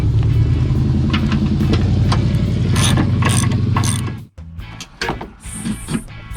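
Ratchet fitted with a Torx bit loosening seat bolts in a Ford Transit T350 passenger van, with rapid clicking pawl strokes in a steady run, then a pause and scattered clicks and metal clunks close by.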